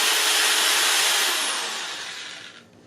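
A handheld spindle sander whirs loudly against the inside of a wooden bud vase, a harsh broadband grind that tapers off as the tool slows near the end.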